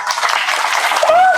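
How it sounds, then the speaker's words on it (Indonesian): Applause bursts from the audience at a Maulid Nabi religious lecture, a steady broad crowd clatter filling the short moment while the preacher's voice carries over it. "Tepuk tangan dong."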